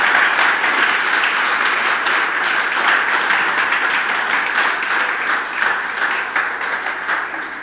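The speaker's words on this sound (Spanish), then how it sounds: "Dale un aplauso al Señor por eso" A church congregation applauds together in a long, dense, steady round of clapping that tapers slightly toward the end, with no voices over it.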